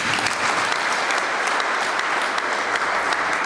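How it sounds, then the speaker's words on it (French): An audience at a book presentation breaks into sustained, dense applause, many hands clapping evenly and loudly throughout without letting up. "Pouvons-nous acclamer s'il vous plaît?"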